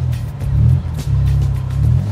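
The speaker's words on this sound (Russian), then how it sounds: "Пежо какой-то едет" Yellow Peugeot car driving past, a loud, close low engine rumble that dips briefly midway and then continues.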